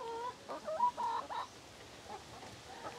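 Chickens cluck in a quick series of short, close calls, then quiet down to faint scattered clucks.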